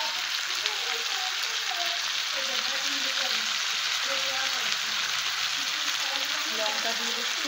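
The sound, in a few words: meat being sautéed (kosha) in a pan for biryani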